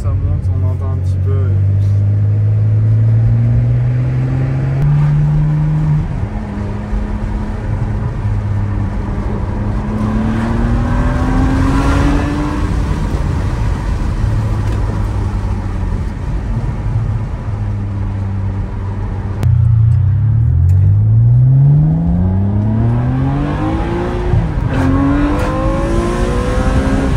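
A Ferrari 599 GTB Fiorano with a naturally aspirated V12 and an aftermarket exhaust kit accelerates hard through the gears, its loud wail climbing in pitch with each gear and dropping at the shifts, while a person talks over it.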